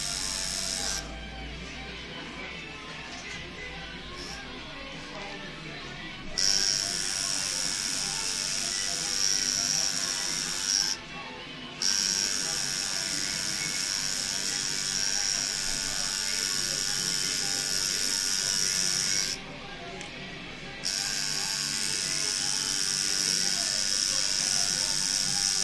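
A tattoo machine fitted with 25SM, 8RL and 14RS needles buzzes steadily against skin, worked flat in tiny circles, running in long stretches with brief pauses, close and fairly loud while a person talks over it.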